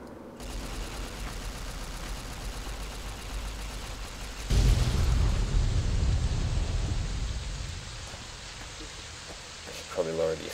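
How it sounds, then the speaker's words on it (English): A nuke detonates in a heavily modded Fallout: New Vegas during the Lonesome Road content, with rain falling. A sudden deep rumbling boom rises over steady rain, stays loud for several seconds, then fades, and a voice talks faintly underneath. "we're going to detonate the nuke and see if that does anything."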